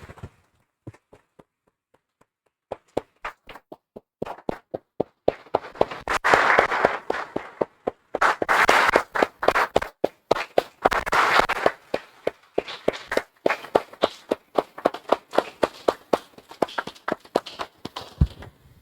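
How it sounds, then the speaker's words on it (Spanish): Church congregation applauding, starting with a few scattered claps that swell into a dense burst of clapping, then break into rhythmic, uneven claps that fade toward the end. "Damos un aplauso, hermanos del Señor."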